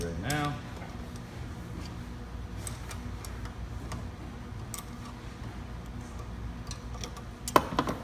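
Nuts and bolts are worked off the bracket of a crowler can seamer, sounding as scattered faint metallic ticks and clicks from a wrench, with one sharper clink near the end, under a low steady background hum.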